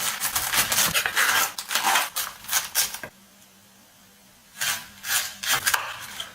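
A knife chops through cabbage for coleslaw on a board in fast, crisp, close runs of strokes, pausing in near silence for about a second and a half before the rapid cutting resumes.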